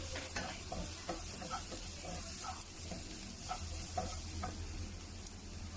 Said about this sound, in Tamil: நல்லா கோல்டன் ப்ரௌன் கலர் வர வரையும் நல்லா வதக்கிக்கலாம்